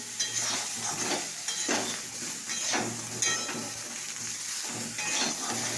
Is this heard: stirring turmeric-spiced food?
yes